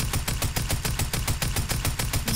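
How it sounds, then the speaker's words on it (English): Rapid, steady automatic fire from a tactical assault rifle in a shooter video game, shots evenly spaced at a moderate rate, somewhat soft and thin, heard alone. "Tactical assault rifle."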